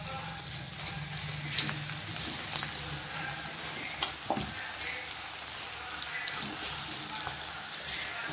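Onion pakoda batter fries in hot oil with a steady crackling sizzle and scattered pops, close and continuous, with some low background noise.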